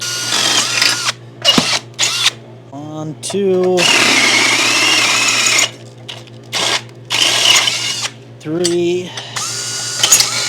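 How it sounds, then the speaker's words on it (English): A power drill whirs in bursts of several seconds, alternating with a man counting aloud between runs. "I'll just drill the holes out a little bigger"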